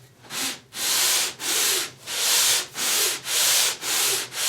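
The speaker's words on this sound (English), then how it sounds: "So I can sand these together as long as I make sure they go down nice and flat." Two wooden parts rubbed flat against each other in repeated sanding strokes, about eight steady back-and-forth passes with brief pauses between, close and clear with no talking.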